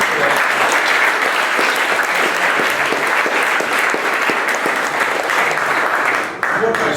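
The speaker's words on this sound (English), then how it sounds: "let's do another round of applause for all the students today" A room full of people applauds students at a university new-venture class event, steady dense clapping throughout that cuts off abruptly near the end.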